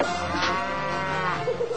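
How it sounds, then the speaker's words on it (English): A single cow on a farm lets out one long, loud, close mooing call that carries on without pause and stands alone, with no talk over it. "This lovesick cow expresses her appreciation as only a bovine can."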